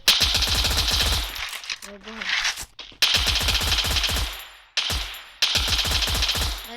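P90 submachine gun firing in a shooter video game, several loud sustained automatic bursts with short gaps between them, close and dominant.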